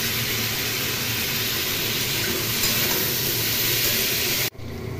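Fish roe fritters sizzling in hot oil in a pan, a steady loud hiss of frying that runs unbroken and then drops off abruptly near the end.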